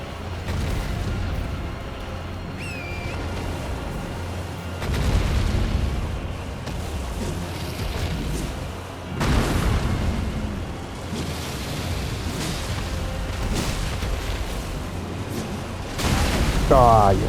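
Boss flame attacks in the video game Elden Ring: rumbling, roaring blasts of fire rise and fall over a long stretch, with several heavy booming surges and constant low game rumble.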